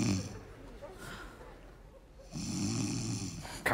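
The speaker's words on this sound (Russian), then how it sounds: "Что ты опять будешь храпеть, я не усну опять." Snoring from a man in a comedy sketch, coarse rhythmic rasps that fade and then swell loud again near the end, with a sharp snort at the close; no words are spoken over it.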